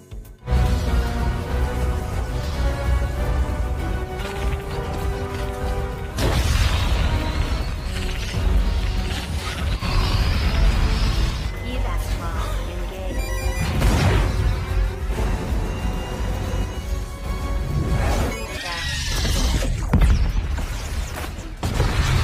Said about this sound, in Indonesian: Gypsy Danger pun akhirnya meledak dan menghancurkan lubang terusan tempat para kaiju keluar.